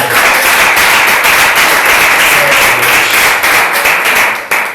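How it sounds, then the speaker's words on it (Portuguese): A church congregation claps loudly and continuously during a sermon, a dense, close roar of many hands with a few sharper claps standing out, no speech over it. "dá uma salva de palmas para Jesus aí, vai."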